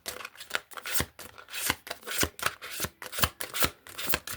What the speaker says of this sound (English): These cards are not easy to shuffle.